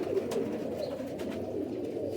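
High-flying rooftop pigeons coo in a steady, low, rolling murmur, a dense flock sound with a few faint clicks and no talking.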